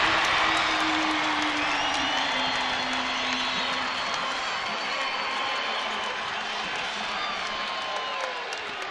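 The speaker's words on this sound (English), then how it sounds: "I don't think I've seen a crowd get so excited to get within 13" Excited home crowd in a college basketball arena during Utah State vs Boise State roaring after a three-pointer, a loud sustained cheer with whoops and applause that slowly fades over several seconds.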